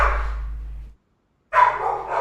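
A dog barks loudly and close by in two stretches of excited yapping, broken by a short gap of silence, with no talk over it.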